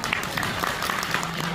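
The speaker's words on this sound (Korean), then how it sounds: "여러분의 뜨거운 격려의 박수" An audience at a merchants' association chairman inauguration ceremony claps together in a brief, dense burst of steady applause close by.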